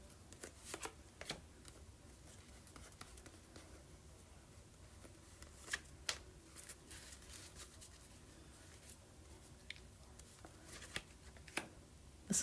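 Playing cards riffled and shuffled close up in a quiet room, a run of soft papery flutters with a few sharper snaps and taps, faint throughout.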